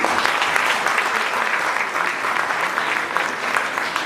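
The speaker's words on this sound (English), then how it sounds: "So please give him a round of applause." A crowd at a Togolese Independence Day celebration claps steadily and fairly loudly, a thick continuous patter of hands.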